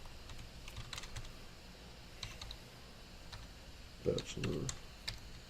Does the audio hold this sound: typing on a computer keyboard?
yes